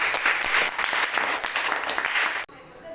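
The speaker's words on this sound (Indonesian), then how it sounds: "tepuk tangan untuk kelompok 1" A classroom of students applauds group 1 after their presentation, a dense burst of steady clapping that stops abruptly near the end, leaving quiet room tone.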